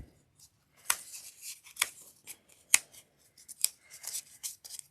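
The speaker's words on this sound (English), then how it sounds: "So then what I did was I went in there with a scissor and just cut the pieces off." Scissors snip pieces off a piece of material in a handful of quiet, crisp cuts, spaced irregularly with soft rustling between them.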